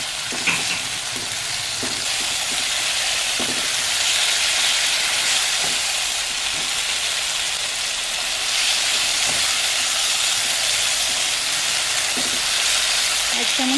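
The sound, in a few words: spice paste frying in pan with onions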